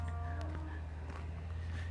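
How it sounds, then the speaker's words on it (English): Cows moo in low drawn-out calls over a steady low hum, with a couple of lowing voices overlapping. "That's why the cows are mooing at him so much."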